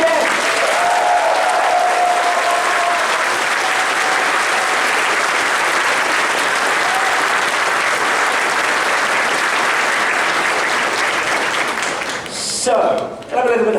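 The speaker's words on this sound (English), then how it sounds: "one big round of applause for Joaquin and Jem" A large crowd at a furry convention's opening ceremony applauds the guests of honour, sustained loud clapping and cheering that fills the hall for most of the stretch before tailing off near the end.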